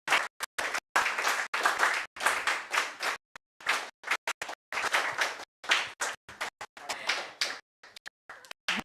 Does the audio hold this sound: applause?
yes